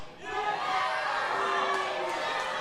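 Wrestling arena crowd booing loudly and steadily, a dense wall of voices sustained throughout with scattered shouts rising above it.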